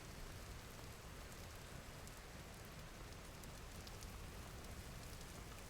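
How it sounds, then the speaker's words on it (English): Rain falling in the video game Vintage Story, heard from under a roof: a steady, soft, even hiss of drops with no pauses, faint and unbroken throughout. "If you stand at the back here, the rain dampens the noise."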